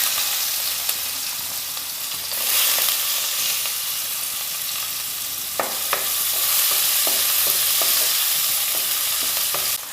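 Onion and cumin sizzling in hot oil left over from frying okra, a steady broadband frying hiss with occasional sharp crackles and stirring clicks in the second half, close and fairly loud.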